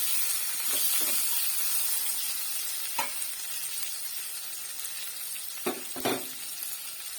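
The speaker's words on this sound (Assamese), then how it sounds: "এতিয়া মই ইয়াত মূলাখিনি দি দিছোঁ। এতিয়া লৰাই দিছোঁ হেতাৰে।" Radish and half-fried fish head sizzle steadily in a pan with a soft, constant hiss, while a spatula stirs them with a few scraping knocks.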